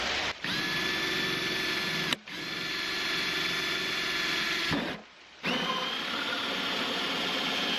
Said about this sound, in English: I've got a hole saw which is 2-inch